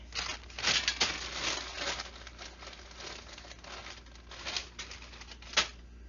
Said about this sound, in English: And get another zip tie.